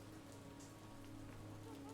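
Steady rain patters on surfaces in a video game village scene with a woman watering flowers, a soft continuous hiss with scattered drop taps and a low hum beneath, no talking.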